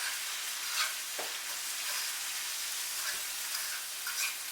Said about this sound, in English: you're basically just kind of frying the corn